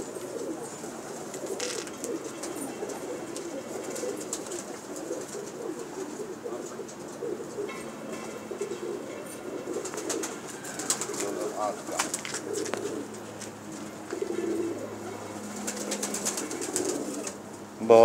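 Pigeons from a fancier's loft coo softly and steadily under a busy background, with occasional wing flaps and light bird chatter throughout.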